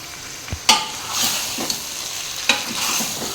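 Roasted, unwashed chicken being stirred in a pan with onions, tomato and ginger-garlic paste: steady frying sizzle broken by a few sharp spatula scrapes and knocks, close and fairly loud, with no voices.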